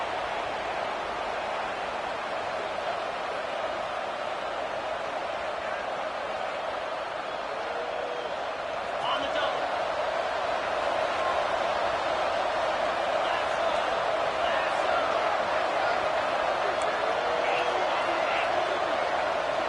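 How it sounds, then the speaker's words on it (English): A packed stadium crowd at a Vanderbilt versus Indiana college football game, a steady, dense roar that swells slightly partway through, with a commentator talking over it throughout. "with this place rocking, the crowd forces a false start"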